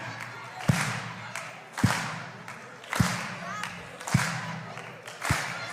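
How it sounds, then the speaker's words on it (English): An audience claps together in slow, steady unison, five loud hand claps spaced about a second apart, with crowd murmur and voices around them. "Everybody clap your hands."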